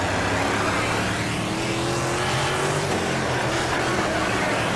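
A race car engine in a World of Outlaws dirt-track racing game drones steadily and loudly throughout, with a sustained pitch that climbs slowly and then settles, and no talk over it.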